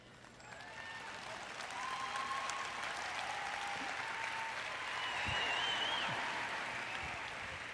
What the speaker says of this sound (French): Certains n'ont pas même su s'il fallait applaudir ou non.